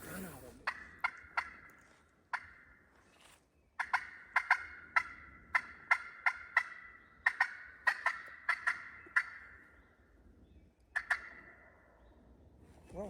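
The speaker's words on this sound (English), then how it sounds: "They're gobbling right there." Wild turkeys gobbling down on a ridge during a Pennsylvania spring gobbler hunt, heard as repeated rattling gobbles in irregular clusters, clear but at a middle distance in a quiet woods, with no talking over them.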